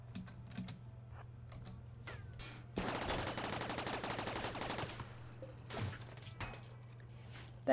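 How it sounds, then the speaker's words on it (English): Rapid automatic weapon fire in the colony-sim RimWorld rattles out as a dense burst lasting about two seconds, with scattered single shots and clicks before and after. "The heck kind of weapon is that?"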